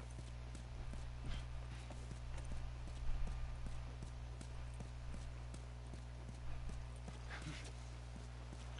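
Horse hooves clip-clop at a steady walking pace in a video game, quiet and even, over a constant low background hum.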